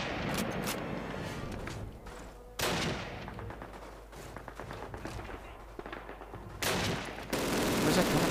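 Sustained bursts of Call of Duty gunfire with sharp single shots and heavy booms, loud throughout, with a faint voice briefly under the fighting.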